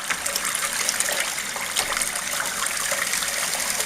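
Water rushes steadily through a gold sluice during a fine gold cleanup, a continuous broadband wash with small splashy bursts, close and fairly loud with no voices.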